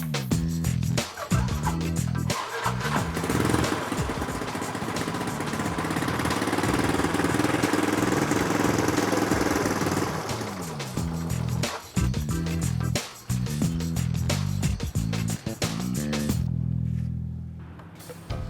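A motorcycle engine that runs poorly, with high fuel use and weak power, runs steadily nearby, a continuous mid-pitched motor drone with a few brief drops and revs, fading near the end.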